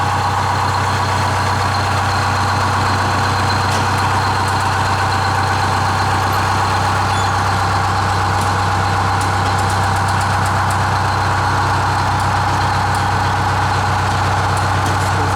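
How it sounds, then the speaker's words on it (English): A 1953 Mack bus from Hampton, Virginia idles loudly and close by, a steady low engine drone with a constant rumbling throb that holds unchanged throughout, with no voices over it. "This is a 1953 Mack bus."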